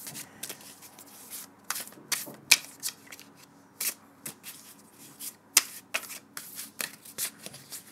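A heavy Celtic tarot card deck being shuffled by hand, a quiet series of crisp riffling flicks and soft slaps in uneven bursts, close and alone without talking.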